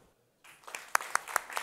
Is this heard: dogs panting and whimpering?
no